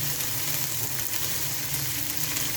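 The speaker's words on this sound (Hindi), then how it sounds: "अब इस वक्त मैं इसमें अदरक लहसुन का जो पेस्ट है ना साथ फ्राई करूँगी इस तरह से" Ginger garlic paste sizzles steadily in a hot pan with oil for a chicken biryani, a continuous close frying hiss with no talking.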